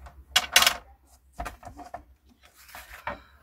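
A craft tool cutting along a drawn line on a paper gift pouch, a few short scraping and tapping bursts close by, with quiet gaps and handling knocks between them.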